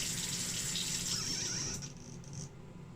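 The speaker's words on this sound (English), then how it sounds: "And we are going to turn off the sink" Water runs from a sink faucet in a steady close stream, then tapers and stops as the tap is turned off, leaving a quieter room.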